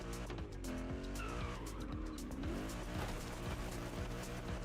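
A car skids under the e-brake in the racing game The Crew Motorfest, tires squealing in long wavering pitched bends over a steady engine drone, loud and close with no talking.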